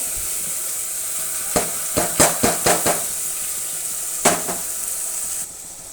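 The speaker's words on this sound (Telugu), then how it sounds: "నూనె వేడెక్కిన తర్వాత పోపు వేసిన తర్వాత ఈ కచ్చా పచ్చగా పట్టుకున్నంతా ఇందులో వేసేసి" Spice paste sizzles in hot tempered oil inside a pressure cooker on a stove, a steady close crackle broken by a quick run of sharp stirring clinks and spatters, no voices.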